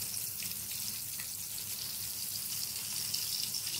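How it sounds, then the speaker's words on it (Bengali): Jackfruit rings deep-fry in hot oil, a steady dense sizzle and crackle running throughout at close range with no voices. "দেখো কত সুন্দর ভাজা হচ্ছে,"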